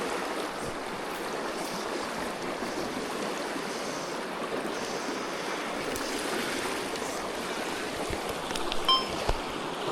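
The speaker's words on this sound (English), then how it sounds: "What a river." A fishing river in Victoria runs steadily, a constant broadband wash of flowing water that stays even and fairly loud throughout, with a few slightly stronger splashes near the end.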